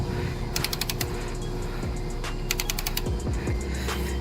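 A ratchet wrench clicks in two quick bursts while tightening the intake manifold bolts on an MSD Atomic Airforce intake fitted to a Camaro 1SS, with rapid close metallic ticks separated by softer clunks and shop noise.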